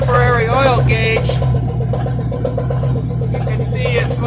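A 1957 GMC truck engine, warmed up after sitting in a field for 40 years, idles with a steady low rumble throughout while someone talks over it.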